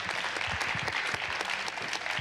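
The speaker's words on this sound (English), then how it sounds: "Could you please give a round of applause for our panelists today?" An audience gives a round of applause for panelists at the close of a panel discussion on gender data, dense continuous clapping from a room of people, moderately loud with no speech.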